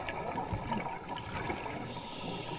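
Gas escaping from a diver's scuba gear bubbles and gurgles underwater in a steady, close, churning stream with small irregular pops throughout; no voices.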